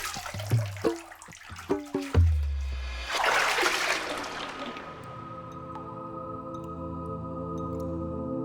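Hot bath water splashing and dripping in a few loud sloshes, then a steady rushing pour from a tap filling the tub, settling into a softer continuous flow.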